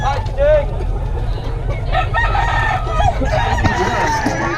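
A Gilmore Sweater gamefowl rooster crows near and loud at a busy outdoor market, the call rising over steady crowd noise and traffic rumble while people talk nearby.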